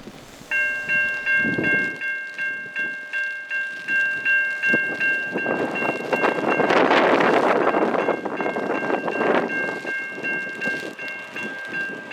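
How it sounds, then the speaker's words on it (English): An NS eastbound freight train led by locomotives 9279 and 3393 passes the Amity Road crossing on the Dayton district, sounding a long, loud horn over a building rumble of rolling cars, with wind buffeting the microphone. "we see an NS eastbound freight train being led by NS 9279 and 3393"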